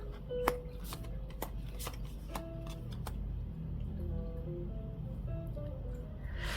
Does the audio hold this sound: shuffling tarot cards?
yes